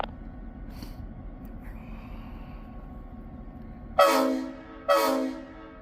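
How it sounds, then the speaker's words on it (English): A low rumble gives way to two loud, sharp horn blasts from a nearby train on the Hocking Valley Scenic Railway in Nelsonville, Ohio, the second shorter, each ringing out briefly before fading. "that's a nice loud horn, I'll say"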